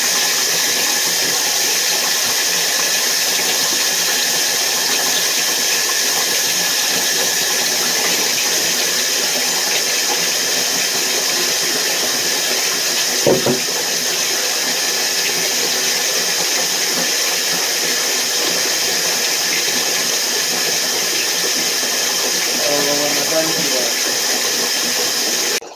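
Steady gushing water sprays over a dog being rinsed in a bath, a continuous loud wash with a brief thump midway and some talk underneath.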